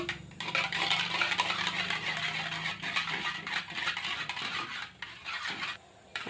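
Cake batter mixed by hand with a spoon in a bowl for a New Year cake, a steady close scraping and clinking of metal against the bowl running throughout with brief pauses near the end.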